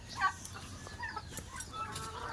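Caged chickens on a farm in rainy weather give soft, scattered clucks, short and fairly faint calls over a low background hum.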